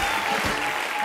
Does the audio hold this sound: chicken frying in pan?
no